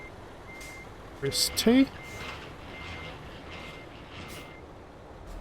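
An in-game truck in Euro Truck Simulator 2 sounds its reversing beeps, an evenly spaced electronic beeping over a low engine hum, with a person talking briefly during it.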